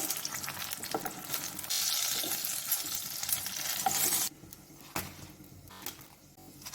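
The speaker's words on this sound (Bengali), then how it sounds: "বাকি বেগুনগুলো আরও ভেজে নিই" Eggplant fries in a pan at home, with a steady close sizzle and stirring scrapes; the frying quiets partway through, and intermittent clinks and softer hissing follow.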